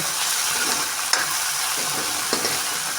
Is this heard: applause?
no